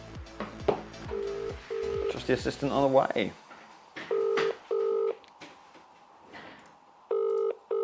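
A phone call being placed: a run of dialing tones followed by repeated ringback tones, with people talking over the start.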